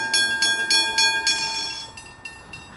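A Werribee-line train passes a level crossing near Aircraft Station, loud and close, with regular rhythmic wheel clatter at first that fades toward the end, with no talk over it.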